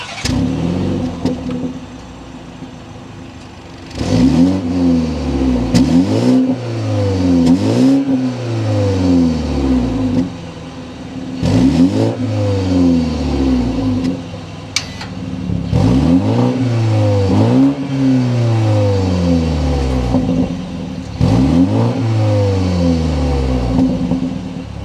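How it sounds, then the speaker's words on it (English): A 2023 BMW 430i convertible with a twin-scroll turbo engine starts up and revs repeatedly, its exhaust note rising and falling in close, loud bursts over a steady idle. "start it up so you can hear that exhaust note"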